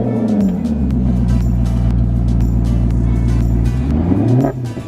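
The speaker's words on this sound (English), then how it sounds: "the Maserati sound is like no other." A 2019 Maserati GranCabrio Sport's engine revs up hard, holds a sustained loud roar, then drops away sharply near the end.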